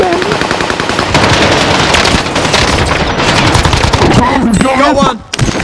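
Sustained machine gun fire from a Call of Duty Warzone match, loud and continuous over several seconds with a short break near the end, mixed with faint game voices.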